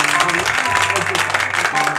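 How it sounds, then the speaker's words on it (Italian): A studio audience at a live Italian Sunday television variety show breaks into applause. It is a dense, steady clatter of clapping with faint tonal sounds behind it. "Darende, un applausone."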